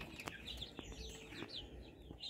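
Baby chicks recently separated from a hen peep in high, thin chirps, several overlapping calls scattered irregularly over quiet background noise, fairly faint and close.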